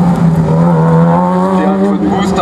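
A PRM Fun Boost prototype race car, a light 360 kg build, runs at a slalom event with a loud, close, sustained engine note whose pitch rises and shifts as it accelerates, with no speech.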